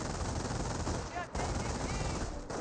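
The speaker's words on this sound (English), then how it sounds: "MP42 firing away, suppressing another rifle squad" Dense, continuous MP42 machine-gun fire in the WWII strategy game Company of Heroes, sustained bursts suppressing an infantry squad, with brief dips in the din.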